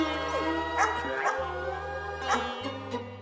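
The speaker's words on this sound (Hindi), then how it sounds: "ये तो कोई और डॉगी है।" A dog barks and yips several times in short separate bursts, fairly close, over a steady low hum in an indoor scene; no one speaks.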